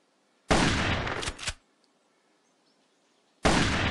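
Gunshots fired while hunting in the off-road driving video game Offroad Outlaws: two loud, close blasts with a quick follow-up crack, a pause of silence, then another sharp shot.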